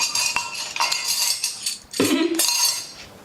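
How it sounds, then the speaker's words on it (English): A metal spoon scrapes and clinks against a bowl while scooping avocado for chocolate avocado pudding, with soft scraping strokes and a brief louder clatter near the middle, close up with no talking. "Here, Moise, can you scoop that avocado into?"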